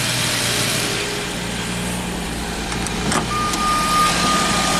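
A 1990 Jaguar XJS V12 idling steadily with no surging, giving a constant close mechanical hum broken by one brief clack near the end.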